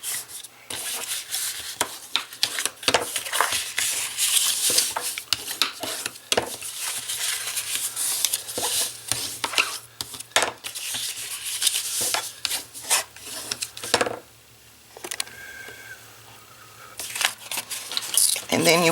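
Paper for an explosion box craft is folded and burnished close up, a steady run of rubbing, scraping and crinkling strokes with short pauses between them.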